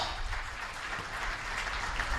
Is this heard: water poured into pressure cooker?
no